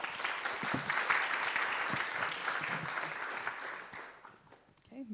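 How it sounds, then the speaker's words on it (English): Audience applause at an event presentation, a dense burst of clapping from a seated crowd that holds steady and then tapers off, with a voice at the very end. "let's give an applause to Caylin."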